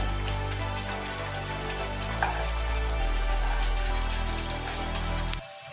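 Mutton kofta curry cooking in a pan on a medium flame gives a steady soft sizzle and bubbling throughout, easing off right at the end.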